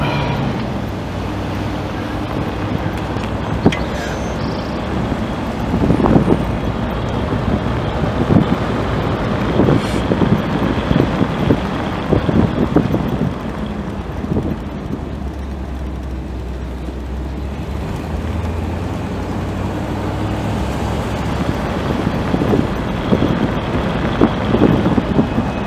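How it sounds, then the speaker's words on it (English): A 1956 Cadillac Eldorado on the road, its steady low engine drone and road rumble continuous and fairly loud from inside the car, with occasional bumps and wind buffeting, no talk. "we are going to take a drive in the 56 Cadillac Eldorado and see how it runs"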